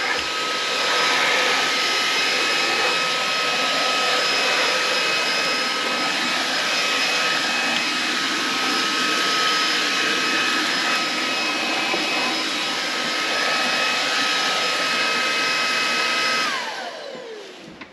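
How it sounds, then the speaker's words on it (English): A 280 watt AiDot cordless vacuum cleaner runs with a loud, steady high-pitched whine and airy rush, close by, then spins down at the end. "Everybody knows how to vacuum."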